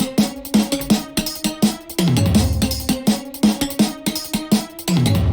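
A produced music motif modeled on a theme from Across the Spider-Verse plays loud and alone, with punchy rhythmic hits and a sustained bass-heavy stretch in the middle, then the choppy pattern returns.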